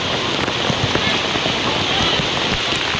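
Heavy typhoon rain in San Isidro pours down in a dense, continuous hiss, loud and close, drumming steadily on surfaces without pause.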